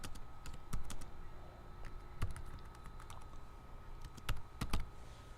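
Typing on a computer keyboard, with scattered close key clicks in small irregular bursts and a few louder, sharper strikes over a quiet room hum.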